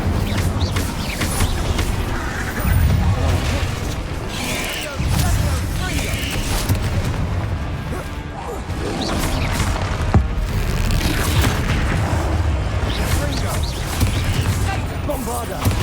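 Spell blasts from Bombarda and Confringo in the Hogwarts Legacy video game, a dense run of booming explosions and crackling impacts over continuous battle noise, with a voice shouting spell names throughout.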